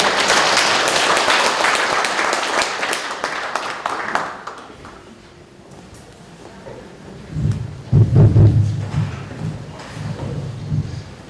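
An audience at a 2022 Insan-ga year-end party gives loud, dense applause to welcome the chairman. The clapping fades out within about five seconds, leaving quieter low rumbling and scattered sounds in the room.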